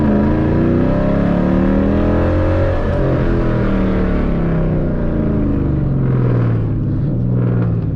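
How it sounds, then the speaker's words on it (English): Dodge Challenger with a 6-speed manual downshifting on the highway, a loud, close engine rumble that swells as the revs rise and fall, steady and continuous. "So this is how I'm a downshift here."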